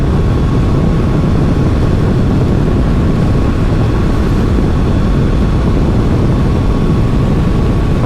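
A Suzuki V-Strom 650 motorcycle engine drones steadily under heavy wind roar during a test ride. The sound is loud and continuous throughout.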